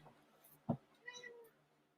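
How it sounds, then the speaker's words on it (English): A loud house cat lets out one sharp meow, then a longer, wavering second meow, both close by against a quiet indoor background with no talking. "I have a very loud cat."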